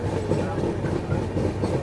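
A train running on rails between Punjab and Jammu, heard from the carriage doorway as a steady, loud rumble with faint rhythmic clatter throughout.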